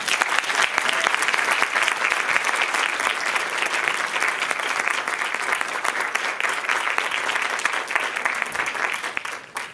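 Loud, sustained applause from a crowd welcoming keynote speaker Vanita Gupta at a White House event, dense even clapping filling nearly ten seconds and tapering only at the very end.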